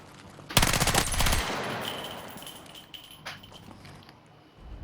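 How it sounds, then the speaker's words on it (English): A submachine gun fires on a firing range in Battlefield 6, a loud rapid burst of closely spaced shots lasting about a second, followed by echoing decay and a quiet tail. "these are your submachine guns. That's your firing range."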